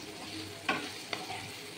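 Potatoes fry slowly with onion in a pan, a soft, quiet sizzle broken by two brief stirring clinks, heard close and without talking.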